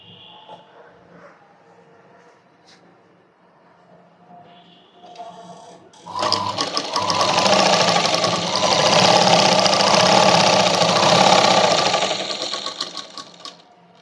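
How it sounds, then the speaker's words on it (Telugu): A sewing machine stitching thread piping starts after a quiet stretch, then runs loud and close in a fast, steady mechanical whir for several seconds before slowing to a stop. "ఈ విధంగా మనం మొత్తం కుట్టేసుకోవాలి. ఈ విధంగా పైపింగ్ అనేది వస్తుంది చూడండి."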